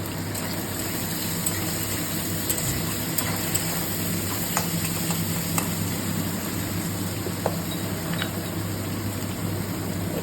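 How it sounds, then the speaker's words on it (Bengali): Onions frying in a pan of hot oil with black cumin, a steady, loud sizzle with occasional sharp clicks of stirring and scraping. "তারপরে আমি দেবো এর মধ্যে পেঁয়াজগুলো, একটু লাল লাল ভাজা হবে"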